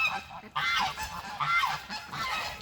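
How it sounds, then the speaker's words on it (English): Geese honk loudly and repeatedly at close range, several overlapping calls coming in bursts with no voices over them. "geese are not fond of filming"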